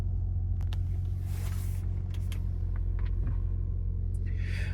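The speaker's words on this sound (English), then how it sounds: "On the button, straight into a nice smooth idle." An Audi SQ5 idles smoothly in a deep, steady low rumble close by, with a few faint clicks and rustles over the top.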